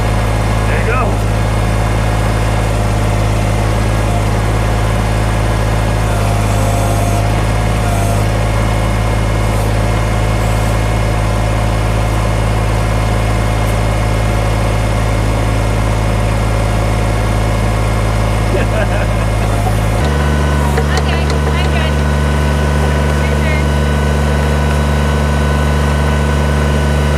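Backhoe digging in a permaculture garden, its engine droning steadily and loudly at a low idle-like pitch that drops noticeably partway through, with people talking over it.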